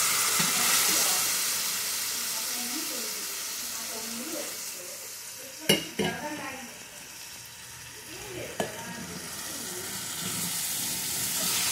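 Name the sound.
boiled mutton frying in a kadai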